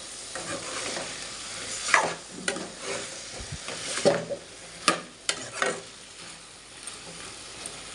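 Food fries in a pan while it is stirred and mixed for a chapati dish, with sizzling under irregular scraping strokes and occasional sharp clinks of utensil on pan, fairly close, with no talk.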